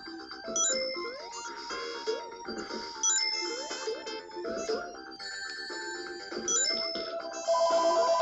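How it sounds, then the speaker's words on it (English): A phone ringtone during a Sonic the Hedgehog 16-bit game session, bright repeating electronic chimes ringing in a looping melody, fairly quiet and steady with no talk. "the phone's ringing"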